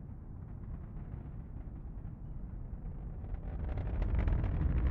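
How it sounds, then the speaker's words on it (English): Deep, steady rumbling roar of a SpaceX Falcon 9 rocket's nine Merlin engines heard from a distant press site after launch, broadband and continuous, swelling louder toward the end. "We're hearing the roar of those 9 Merlin engines here at the press site."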